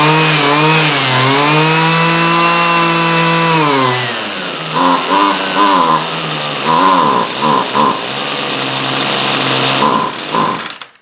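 A worn and weathered Husqvarna string trimmer engine screams at high revs up close, then drops in pitch and bogs down, surging and stumbling unevenly for several seconds before cutting out at the end.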